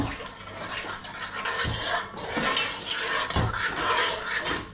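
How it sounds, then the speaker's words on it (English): A spoon scraping and stirring thick macaroni cheese sauce in a pot, with rhythmic rasping strokes and soft knocks against the sides, close up. "Now just mix it with a spoon."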